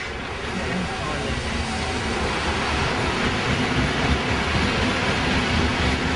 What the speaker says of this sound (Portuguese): É só um momentinho passar o trem.